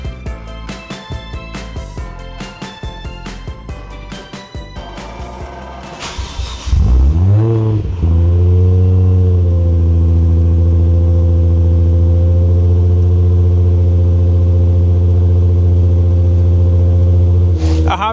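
A Toyota 1JZ twin-turbo engine swapped into a Datsun 240Z cranks, catches and fires up, then settles into a loud, steady idle after a few revs, with a brief blip near the end.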